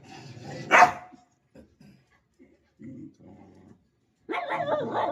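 A dog gives one sharp bark early on, then quiet stretches with soft scattered noises, and a person starts talking near the end.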